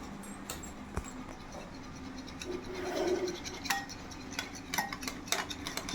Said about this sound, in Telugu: ఈ విధంగా బీట్ చేసుకుంటే సరిపోతుంది.